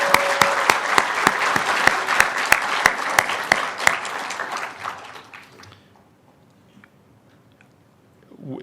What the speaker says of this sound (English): We can all applaud that, right?